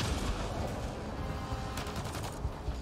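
Rapid gunfire in the video game Mass Effect Andromeda crackles in a dense, continuous burst, loud and close, with a few sharper shots toward the end.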